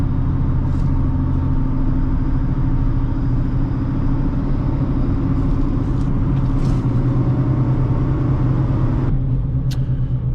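A 2008 Honda Fit accelerates hard on a test drive, with a loud, steady in-cabin engine drone and road rumble holding for about ten seconds and a brief shift-like change near the end.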